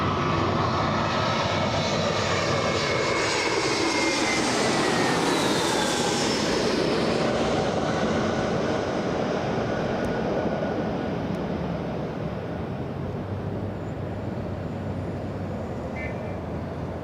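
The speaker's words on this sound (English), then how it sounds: "it's an A321 flying in from Boston" JetBlue Airbus A321 flying overhead on approach to Los Angeles International Airport, loud engine roar peaking as it passes close then slowly receding into a fading rumble, no talking.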